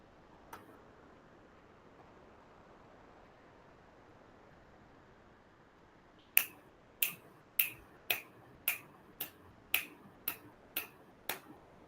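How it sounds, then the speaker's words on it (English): Ten crisp finger snaps recorded as samples, one close and isolated snap early, then after a quiet pause a run of sharp snaps spaced about half a second apart against faint room hiss. "So snapping sound also recorded."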